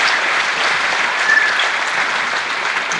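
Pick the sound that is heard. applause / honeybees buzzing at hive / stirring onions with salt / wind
applause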